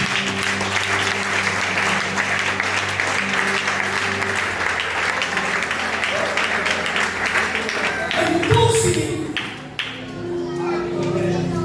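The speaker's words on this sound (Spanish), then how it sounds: "Dale ese fuerte aplauso al Señor." A church congregation applauds steadily during a Christian sermon, the clapping continuous under a faint voice and sustained musical tones, with a brief shift near the end.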